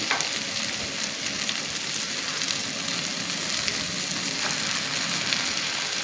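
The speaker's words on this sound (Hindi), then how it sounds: "इस मोमेंट पर मैं क्या करूँगी, नूडल्स डालूँगी।" Noodles hiss and sizzle in a hot pan of softened vegetables for Schezwan noodles, a steady close frying crackle that fills the whole stretch with no talking.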